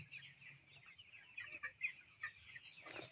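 Faint clucking of several chickens on a poultry farm of about 900 birds, soft and irregular, with a quiet background hum.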